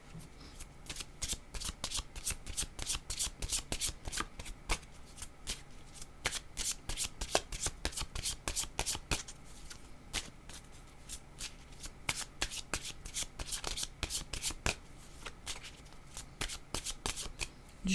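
A deck of cards being shuffled over and over, crisp rapid riffling bursts in close succession, near and fairly quiet, with no talking.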